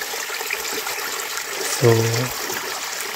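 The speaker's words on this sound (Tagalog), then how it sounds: "malakas yung daloy ng tubig" Strong, steady rush of cold spring water flowing straight from the ground, a continuous broadband wash throughout, with someone briefly speaking over it near the middle.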